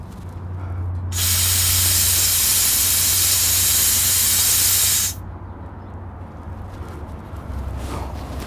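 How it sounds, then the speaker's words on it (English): Compressed air and moisture hiss loudly out of the air tanks on a fire tender for about four seconds, a steady broadband rush that cuts off sharply. A low engine idle drones underneath throughout. "Bleed a little bit of air and any moisture that is inside the tanks."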